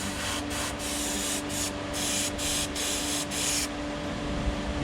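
Aerosol paint sprayed onto a wood carving of a rainbow trout in a workshop, heard as several short hissing bursts in a row over a steady low hum, then stopping near the end.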